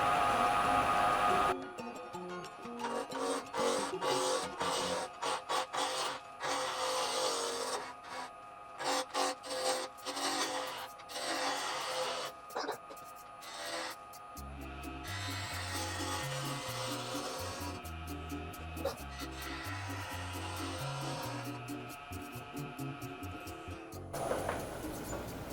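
Wood lathe spinning up and roughing a garden tool handle blank to round, a steady dense broadband cutting rasp with shifting tonal hum as the speed changes, continuous and close for most of the stretch before stopping.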